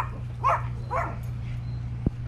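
A dog lets out two short, moderately loud barks or yips in quick succession over a low steady hum, followed by a brief thump.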